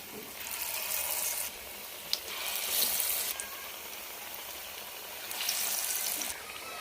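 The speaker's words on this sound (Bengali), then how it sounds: "গোল গোল শেপে বড়াগুলো গড়ে নিলাম এবার গরম তেলের মধ্যে দিয়ে দেব একে একে বাকি বড়াগুলো দিয়ে দিলাম" Lentil fritters (dal bora) dropped one by one into hot oil, a steady broadband sizzle that swells in bursts as each ball goes in, close and fairly loud with no voices.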